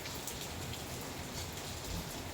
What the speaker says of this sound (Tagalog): Oh, umuulan dito ngayon sa Jensen.